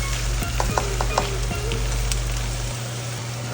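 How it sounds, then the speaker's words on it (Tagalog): Tomatoes sauté in a hot pan with a steady, close sizzle, and sharp scrapes and taps from a stirring utensil fall in the first half. "Tagigisa lang mo natin ng talagang gisang-gisa pati ito kamatis"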